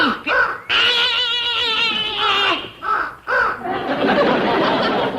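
Crow cawing loudly and repeatedly, harsh drawn-out calls one after another, with a raspy, laugh-like quality and a noisy stretch near the end, in a comedy western farm scene.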